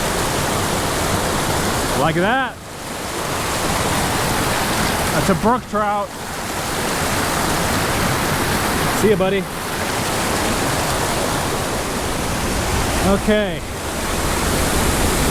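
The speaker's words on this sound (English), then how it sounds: "Gorgeous pools with waterfalls" Steady rushing roar of waterfalls pouring into pools in a wild gorge, continuous and loud, with someone talking briefly at a few points over it.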